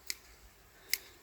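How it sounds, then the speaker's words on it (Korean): Two sharp snips of hand pruning shears cutting pine (Korean bansong) shoots, close and crisp, spaced under a second apart in a quiet setting. "손가위를 우선 쓰겠습니다."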